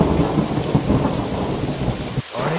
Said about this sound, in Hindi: बारिश अभी थमने का नाम नहीं ले रही थी।